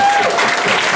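Crowd clapping at a convention costume contest, a short dense burst of applause heard close and loud.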